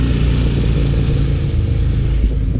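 A motorcycle passing close by, a loud continuous engine rumble with a steady drone that holds throughout, no voices over it.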